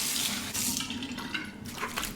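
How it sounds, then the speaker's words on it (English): Cold tap water runs steadily into a bathroom sink for a post-shave face rinse, a continuous close splashing hiss with some uneven surges and no talking. "Now a cold water rinse to the face."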